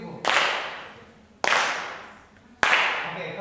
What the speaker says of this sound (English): Oh, and the clap.